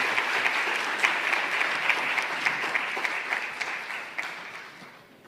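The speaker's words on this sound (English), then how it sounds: "So please give them a round of applause" An audience at a climate justice summit applauds as speakers join the stage, a loud, dense burst of clapping that slowly fades over about five seconds.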